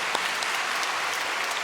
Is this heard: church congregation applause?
yes